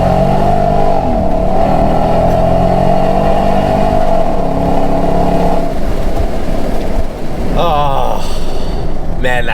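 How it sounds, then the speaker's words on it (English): A 2024 Nissan Patrol Warrior, held in first gear in manual mode, revs hard through its bimodal exhaust, the engine note climbing loud and close with a brief voice near the end. "That bimodal exhaust really does make a difference to how this thing sounds"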